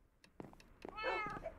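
A cat in Minecraft Sky Factory, heard in a short close-up run of soft chirps that ends in one clear, drawn-out meow, with quiet gaps between the sounds and no talking.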